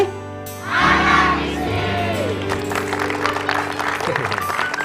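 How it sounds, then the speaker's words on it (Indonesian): Lively audience applause at a school exposition, clapping and crowd noise swelling in after a moment and continuing over background music. "tepuk tangannya masih meriah itu"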